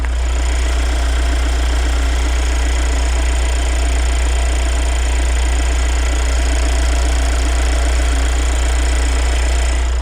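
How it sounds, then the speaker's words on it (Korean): A 2023 fourth-generation Kia Carnival diesel minivan engine, about 10,000 km driven, idles steadily for about ten seconds, a constant low rumble with a faint clattering texture and no voices. "엔진 소리 한번 들려드리도록 하겠습니다."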